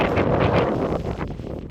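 Strong wind gusting across the microphone on an outdoor walk, a close, loud buffeting rumble that surges and eases over a couple of seconds.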